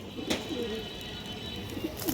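A female pigeon of a good working line coos in low, soft murmurs through the clip, with a few faint brighter calls from other birds over a steady background hiss.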